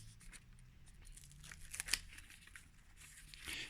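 Paper wrapping is torn off a boxed sci-fi terrain kit: quiet crinkling and rustling build to one sharp rip, followed by softer crumpling, close up with no speech.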